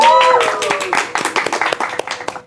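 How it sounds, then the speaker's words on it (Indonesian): Audience clapping on an Indonesian talk show rises in scattered, fairly close hand claps, starting under lingering speech and tones before thinning into separate, uneven claps. "tepuk tangannya dong"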